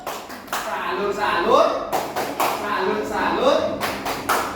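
A class of schoolchildren claps in appreciation in a rhythmic group clap with short bursts, mixed with children's voices calling out close by in a classroom.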